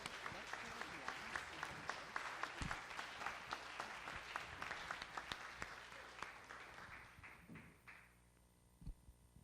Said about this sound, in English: huge applause for our panelists